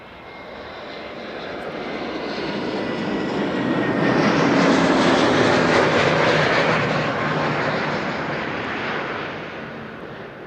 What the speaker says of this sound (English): Iceland Air Flight 500 today, unfortunately, an Airbus A321neo.